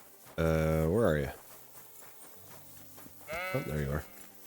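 Sheep in the medieval countryside of the game Kingdom Come: Deliverance II bleat twice, a long wavering call followed by a shorter one a few seconds later, loud and close over quiet ambient background.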